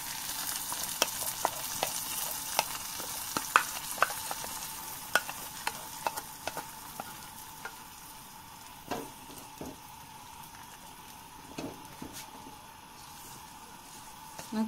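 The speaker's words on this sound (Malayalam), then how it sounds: "നമുക്ക് ഇതൊന്ന് ഇളക്കി കൊടുക്കാം. നല്ല മണമൊക്കെ വരുന്നുണ്ട് ഇപ്പൊ." Onions and curry leaves fry in a pan for a potato curry, giving a continuous soft sizzle with scattered scrapes and taps of stirring, close and fairly quiet.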